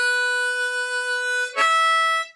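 Solo harmonica plays line 8 of a blues solo: a clear, close, sustained note held for over a second, then a brief breathy shift into a second held note, with no talk.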